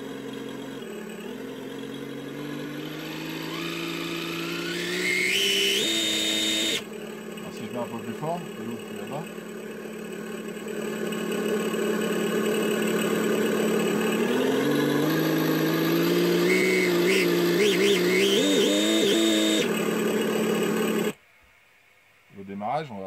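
Simulated engine from a small sound module mounted at the rear of an Absima Sherpa RC car, droning and rising in pitch as it revs and accelerates, loud and close, with someone talking over it before it cuts out near the end.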